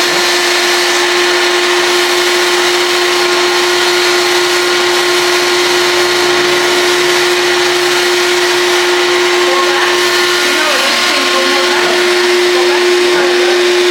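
A Harbor Freight paint spray gun sprays house paint onto a home's exterior, giving a loud, continuous motor whine with a steady pitched hum that runs without pause.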